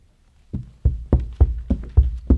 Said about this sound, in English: The last box being nailed down.